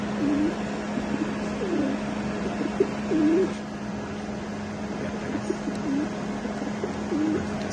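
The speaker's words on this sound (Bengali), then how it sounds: "নাইস এক পেয়ার গোল্ডেন কবুতর দেখেন" Golden Pakistani Teddy pigeons coo softly and repeatedly, a low rolling call every second or so over a constant mechanical hum.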